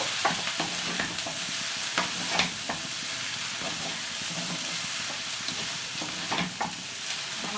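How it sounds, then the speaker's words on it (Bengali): Cabbage and spices stir-fried in a pan for a cabbage and lentil dish: a steady broadband sizzle with scattered scraping strokes of a spatula throughout, moderately close, no talking. "এবার বাঁধাকপিটা দিয়ে মশলাগুলো সব সুন্দর করে কষিয়ে নিতে হবে"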